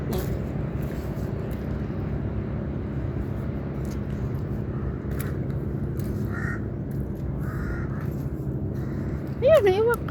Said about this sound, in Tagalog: Ayun, may uwak.